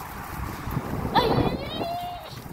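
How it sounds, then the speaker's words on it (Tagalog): Strong wind buffets the microphone outdoors on a very hot day, a steady broadband roar that swells around the middle, with people talking and shouting over it. "Lang lakas ng hangin."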